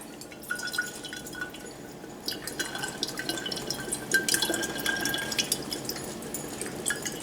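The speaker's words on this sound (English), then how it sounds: "So we're going to dump it out into a cup just so you guys can see what it looks like." Coconut water poured from a fresh coconut into a cup, a light, uneven trickling and dripping of liquid with small splashes, fairly close and continuous, with no talking.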